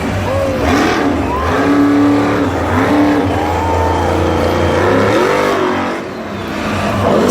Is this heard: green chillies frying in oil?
no